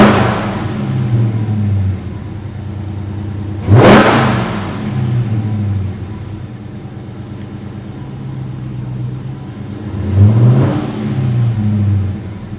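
A supercharged 6.2-liter engine in a Dodge Hellcat idles with a loud, steady rumble, then revs sharply twice, with a rising whine at each surge before settling back to idle.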